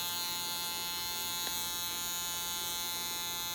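A steady, even electric buzzing from a small permanent makeup tattoo machine with a 1 RL needle hums without pause, a constant close drone with no speech over it.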